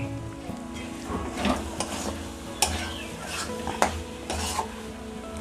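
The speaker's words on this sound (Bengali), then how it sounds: "ভালো করে খুন্তির সাহায্যে মিশিয়ে নিতে হবে।" A spatula stirs boiled mixed dal for a dhaba-style dal tarka in a kadai. Metal scrapes and taps rhythmically against the pan over a soft, continuous sizzle, with a few sharper clanks along the way.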